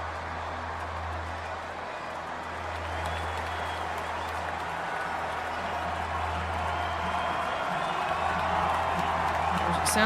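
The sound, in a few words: crowd cheering and applauding at a marble race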